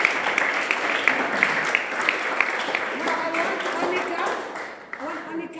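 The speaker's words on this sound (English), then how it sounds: "Just clap for yourself" Scattered clapping from a group of people at a gathering, steady and moderately close, with voices talking over it before it thins out near the end.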